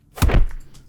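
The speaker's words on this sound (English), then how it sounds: "This was Cloth Impact Whip Foam Punchy" A punchy cloth-and-foam whip impact built for a dark magic spell effect, one short thudding hit with a quick swish tail that fades within a second.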